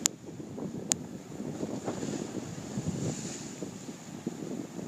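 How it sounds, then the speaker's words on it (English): Strong gusty wind buffets the microphone at a break wall on the stormy Upper Niagara River, a steady low rumble with waves and surf churning beneath, plus two sharp clicks near the start; no one speaks. "It's not even that cold, just windy."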